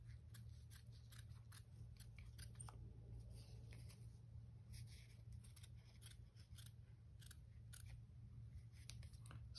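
Scissors steadily cutting through felt, a close, continuous run of crisp snipping with a low hum underneath and no talk.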